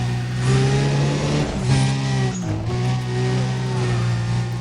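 A car accelerating in Need for Speed: Undercover, engine note climbing in pitch through loud sustained revs, briefly dipping at a gear change before rising again, close and dominant.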